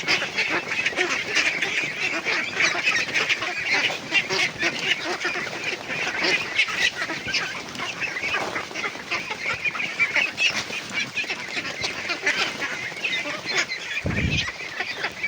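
Domestic ducks quack and honk loudly and continuously at feeding time while an azolla, banana and feed mix is stirred, a dense flock chorus close by with no speech.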